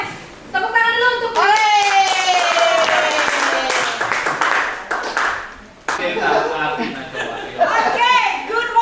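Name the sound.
audience applause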